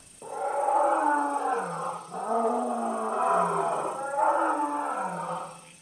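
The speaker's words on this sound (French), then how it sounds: "Un rugissement qui se voulait fort, courageux, un rugissement qui grondait dans tous les cœurs." Several lionesses roar together in three long, swelling bursts, deep tonal calls that rise and fall with short breaks between them, loud and close.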